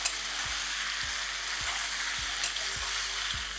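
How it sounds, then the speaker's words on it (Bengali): Onion and potato fry in oil over a high flame, a steady loud hiss punctuated by regular soft knocks of a stirring spatula about every half second. "যেটাকে আমি আলুর সাথে ভালো করে একবার ভেজে নেব। এই সময় কিন্তু ফ্লেমটা আপনারা অতি অবশ্যই একদম হাই রাখবেন।"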